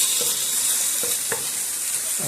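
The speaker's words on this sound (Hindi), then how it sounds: "वेजिटेबल को आपने अच्छी तरह फ्राई करना है ताकि ये रोस्ट हो जाए" Mixed vegetables (beans, broccoli, carrot, green beans, bell pepper) fry in a pan for chicken soup, giving a steady close sizzle with a few soft stirring scrapes and no talk.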